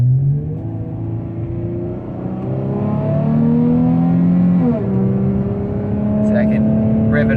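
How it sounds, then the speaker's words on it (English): Car engine revved up and held after the driver lets off the gas, a loud steady drone with rising harmonics in a car with paddle shifters and a manual shift mode; a brief dip near the middle, then a sustained high rev. "So I can rev it up and then let off the gas and it'll stay"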